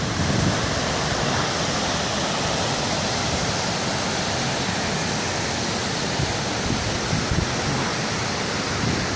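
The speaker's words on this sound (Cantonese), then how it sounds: "瀑布一路咁樣流落去，啲雪山溶落嚟嘅。" Bow Glacier Falls, a waterfall fed by glacial snowmelt, pours with a dense, unbroken roar that fills the whole stretch evenly at close range, with no pauses and no voices.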